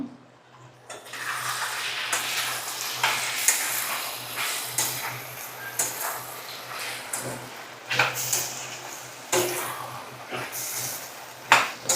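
A spoon stirs ground cumin, coriander and fenugreek into a frying curry, giving a close, low sizzle broken by uneven scraping strokes and occasional louder knocks against the pan, with no talk.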